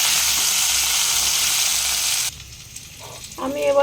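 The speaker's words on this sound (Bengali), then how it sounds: "হলুদ, কাশ্মীরি লঙ্কা গুঁড়ো, সব একসঙ্গে ফ্রাই করে নেব" Turmeric, Kashmiri chili powder and salt fry together in a pan with a loud, dense hiss that stops abruptly partway through. A voice speaks in the quieter stretch after the hiss stops.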